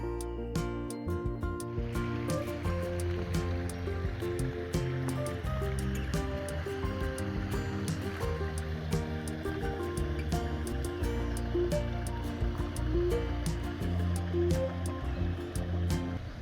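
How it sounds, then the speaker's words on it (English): A motorbike fords the Wonnangatta River on a steep back track between Dargo and Licola, its engine droning steadily under constant splashing and rushing water, with sharp clicks and knocks early on. "There is a number of river crossings to go through."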